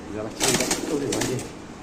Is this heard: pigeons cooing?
yes